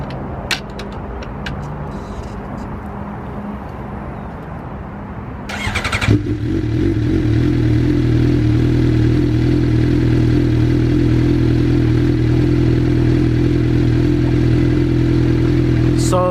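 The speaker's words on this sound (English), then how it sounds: "You can go ahead and give it a couple revs." A warmed-up Suzuki GSX-R motorcycle engine catches with a sharp burst after some faint background handling noise, then settles into a loud, steady, close-up idle with a strong low rumble.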